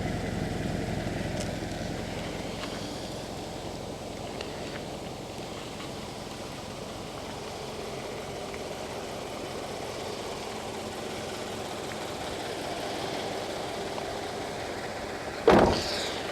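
A 2014 Subaru BRZ Limited idles quietly and evenly for a long stretch, a soft low hum near the car, with a brief sharp knock or thump close to the end.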